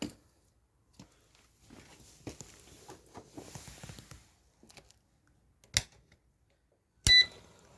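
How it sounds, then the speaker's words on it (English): A few scattered clicks and taps, then two short electronic beeps from an appliance, with quiet gaps between. "It beeped."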